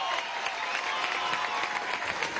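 Steady applause from a crowd at a youth march rally at Miraflores, dense clapping holding at a constant loudness for a couple of seconds.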